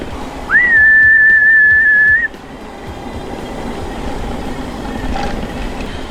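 A person whistles a single sustained, steady note held for nearly two seconds on a loamy mountain bike trail in Granite Gorge, loud and clear against outdoor background noise.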